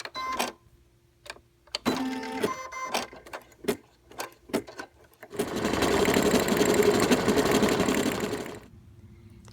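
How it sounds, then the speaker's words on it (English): Single needle embroidery machine stitching a tote bag, starting with several short separate clicks and whirs, then a loud sustained rapid mechanical buzz for about three seconds before stopping. "put your presser foot down, make sure you've removed your reinforcements or any other markers that you've used, and you can start embroidering."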